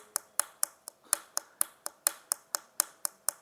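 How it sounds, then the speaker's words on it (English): Fingers flick against a willow cricket bat in a quick, even series of sharp tapping clicks, roughly four per second, close and clear. "flick your fingers on the bat to see whether you're getting this sound"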